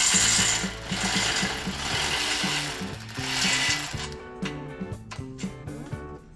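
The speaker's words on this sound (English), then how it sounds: "And we'll remove the bigger bolts at the back that's holding the caliper bracket." Socket wrench ratcheting out the large caliper bracket bolts at the back of a Subaru Forester front brake with a 19 mm socket, a dense run of rapid clicks that thins into separate sharp ticks toward the end.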